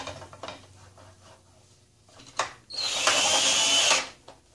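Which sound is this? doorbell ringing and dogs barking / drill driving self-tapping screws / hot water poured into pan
drill driving self-tapping screws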